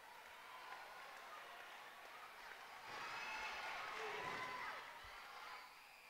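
A crowd at an SFCW cage match wrestling show cheers and claps at a distance, a steady low roar that swells louder midway and then eases back down.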